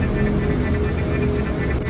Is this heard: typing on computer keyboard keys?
no